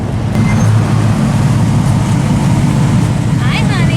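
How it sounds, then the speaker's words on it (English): Hot rod cars roll in at the Hot Rod Power Tour, a steady loud engine rumble and road noise that holds through the whole stretch, with brief voices over it. "I might as well give you guys a little taste of some of the vehicles coming in"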